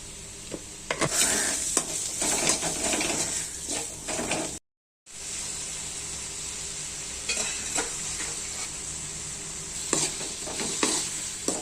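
A jackfruit dish gets stirred and mixed in a hot pan, with steady sizzling under repeated scraping spoon strokes, close and fairly loud, and one short break of silence partway through.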